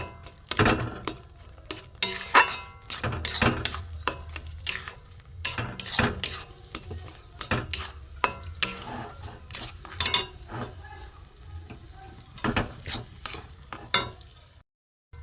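Semolina dough being stirred in a pan, a utensil scraping and knocking against the metal in irregular close strokes, loud and without talk.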